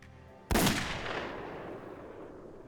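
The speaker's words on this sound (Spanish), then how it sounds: "Apuntó y disparó." A single loud, close gunshot from a .357 Magnum revolver loaded with .38 rounds cracks sharply and then rings out in a long, fading echo.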